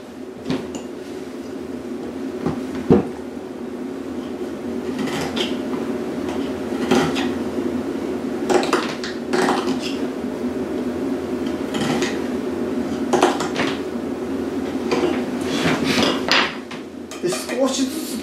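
A tool shaves the inside of the bore of a bamboo jinashi shakuhachi flute, giving close, repeated scraping strokes in irregular bursts over a faint background.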